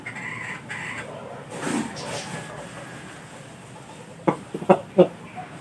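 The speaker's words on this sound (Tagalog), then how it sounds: "ito yung brood hen niya." Japanese Shamo brood hen, a giant oriental breed, clucking on a farm: low murmuring for a few seconds, then a quick burst of sharp clucks near the end, close by, with faint background noise.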